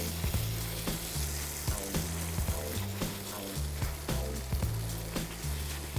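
Crayfish frying in garlicky butter in a pan make a steady, close sizzle with bursts of crackling and popping, alone and without talk.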